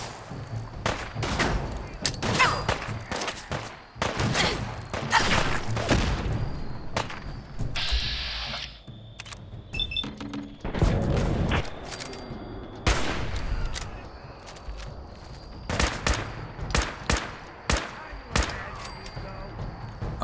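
Gunfire in Fallout 4: irregular sharp shots and short volleys at moderate loudness, scattered across a long exchange with brief pauses between them.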